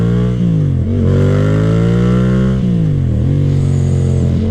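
A Yamaha FZ-07 motorcycle engine revs up and drops back twice, its deep exhaust note rising and falling loudly and close by.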